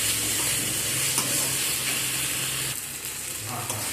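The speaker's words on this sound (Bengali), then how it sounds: "লবণ দিয়ে আবারও সব কিছু একসাথে মিশিয়ে নেব, এতে করে টমেটো তাড়াতাড়ি নরম হয়ে যাবে।" Tomatoes frying with salt in a pan are stirred steadily, a continuous close sizzle with scraping strokes running throughout, no talk.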